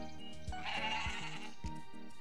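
Several goats on a Story of Seasons: Pioneers of Olive Town farm bleat while being milked, a steady run of wavering game-animal cries over a looping music background, with no talk.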